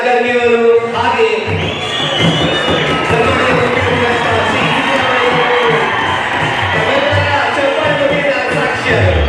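A crowd at a public inauguration event in Raichur's rural assembly constituency claps and cheers loudly and continuously, with scattered shouts and whoops.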